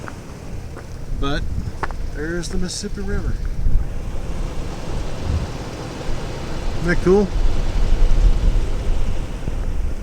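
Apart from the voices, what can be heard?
strong wind by the Mississippi River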